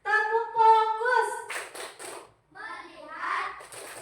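Children in a classroom perform the rhythmic 'tepuk fokus' clapping chant, chanted voices alternating with short bursts of sharp, closely grouped claps.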